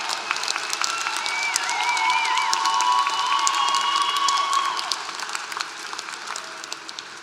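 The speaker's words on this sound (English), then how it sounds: "Please stand and give everyone standing today a round of applause" Audience at a University of Tennessee at Martin fall commencement gives a standing round of applause for the graduates, dense loud clapping mixed with cheers, whoops and a few high shouts from the crowd.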